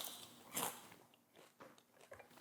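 A bite into a crunchy homemade tater tot with a confit potato inside and a seasoned crisp outside, followed by a few quiet, close crunching chews.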